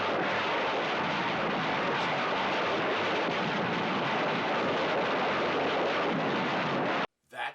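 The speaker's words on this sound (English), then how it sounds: "Fireworks to alert the police." Fireworks going off as an anti-theft alarm on a car in the 1960s Batman TV series, a continuous loud crackling and hissing barrage with booms that stops abruptly near the end.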